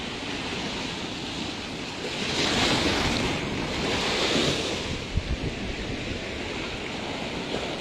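Ocean waves surge against a shore beside a village road where a concrete breakwater has collapsed, a continuous roar of surf swelling louder midway under gusting wind buffeting the microphone.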